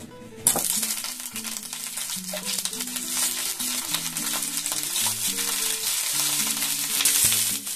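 Cauliflower pieces fry in oil with a loud, dense sizzle that starts abruptly as they go into the pan, with tonal clinks and scraping under a continuous crackle.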